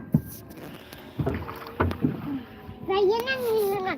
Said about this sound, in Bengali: এই যে নৌকার মাঝে এখন নৌকা চালাচ্ছে